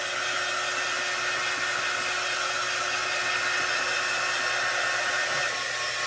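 Steady, loud whoosh of a hair dryer blowing on a freshly painted pumpkin, running continuously at close range with no talking.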